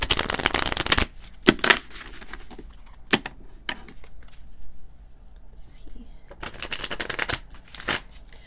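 Tarot cards are shuffled in several quick riffling bursts, close and crisp, separated by quiet pauses with soft handling sounds.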